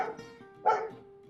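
A single bark from a neighbor's dog pops out partway through, fairly soft and somewhat distant, over a steady low hum of background sound.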